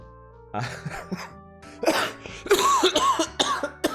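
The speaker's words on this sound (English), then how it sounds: "Oh, I don't want to cough." A person coughs and clears their throat repeatedly, harsh and close, with strained vocal sounds mixed into the coughing.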